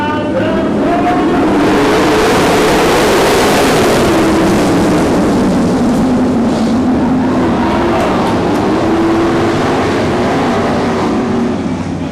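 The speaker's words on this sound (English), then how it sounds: "Weniger and Dietz on the gas." Outlaw compact race cars roar loudly as they accelerate on a dirt track, a dense continuous engine drone with rising and falling pitch that fills the whole stretch.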